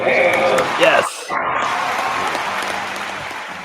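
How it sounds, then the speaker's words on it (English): A baseball stadium crowd roars and applauds after a great catch, loud at first, briefly cut off, then settling into a sustained distant cheer with voices talking over it. "I do like that the crowd went extra nuts because that was a really good catch"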